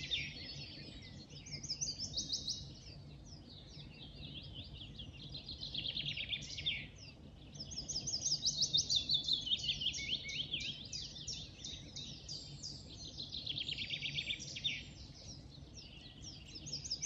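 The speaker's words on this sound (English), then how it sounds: "we can hear chiffchaff and willow warbler singing at the same time" Chiffchaff and willow warbler sing together in May woodland at dawn, a steady stream of high, thin phrases overlapping in waves, fairly near and continuous, with no voices.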